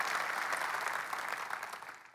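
Sustained applause from a conference audience, a dense even patter of many hands clapping at steady volume that tapers slightly toward the end, with no voices standing out.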